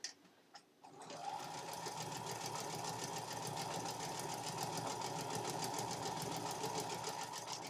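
Sewing machine stitching half square triangles along a dotted line for a quilt block, starting after a second of quiet handling, then a steady, fast, close mechanical whir that runs without stopping.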